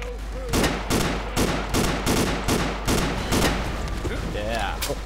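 Rapid bursts of gunfire from the Ace of Spades video game, about nine evenly spaced loud shots over five seconds, with a voice talking underneath.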